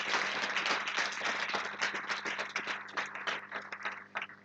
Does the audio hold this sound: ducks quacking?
no